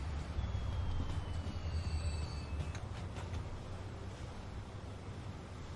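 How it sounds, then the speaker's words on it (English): Steel freight train arriving at a station in the Transport Fever 2 simulation game, a steady low rumble with rising wheel squeals and whistling tones over a continuous rolling hum, no voices. "Are you the steel train coming in?"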